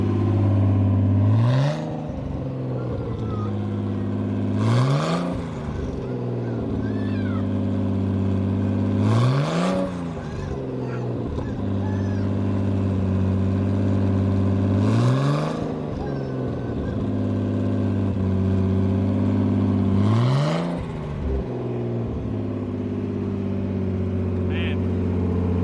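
A Nissan 240SX with an RB25 engine and broken exhaust manifold studs is revved in several short blips, each rising sharply and falling back to a steady idle, about every five seconds, loud and close.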